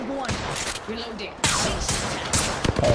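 Enemy gunfire in Apex Legends crackles in quick bursts, the loudest volley cutting in about halfway, with a voice talking over parts of it.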